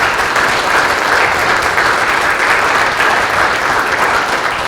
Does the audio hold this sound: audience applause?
yes